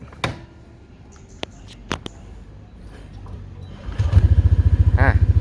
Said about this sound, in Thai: เดี๋ยวผมสตาร์ทให้ฟังเสียงเครื่องกันนะครับ